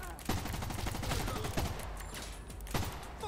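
Rapid bursts of gunfire in a video game, a handful of sharp, loud cracks over a continuous rattle of shooting.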